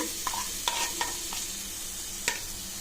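Coconut and blended mango stirred in a pan over a low flame while cooking down for mango laddu: a soft continuous sizzle broken by several sharp spoon scrapes and taps, close and clear, with no voices.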